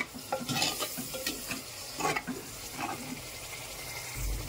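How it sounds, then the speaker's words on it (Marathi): Masala frying in oil for a village-style Maharashtrian egg curry, crackling and sizzling with repeated spoon scrapes against the pan, close and fairly loud, with a low thump at the end. "आता पहा कडकडाला तेल सुटत आहे, म्हणजे आपला मसाला चांगला भाजत आहे."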